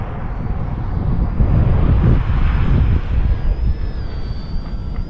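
An RC Sbach stunt plane drones overhead on a windy day, its small engine a steady buzzing whine that rises and falls slightly as it passes, with gusty wind rumble buffeting the microphone throughout.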